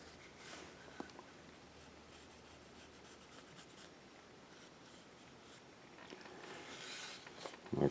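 A pencil drawing on paper, soft faint scratching and rubbing strokes, close and quiet, in irregular bursts with brief pauses.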